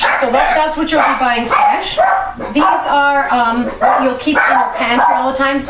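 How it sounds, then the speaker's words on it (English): Several dogs bark and yip in loud bursts throughout, close by, while a person keeps talking over the barking in a home kitchen. "Sorry about the dogs."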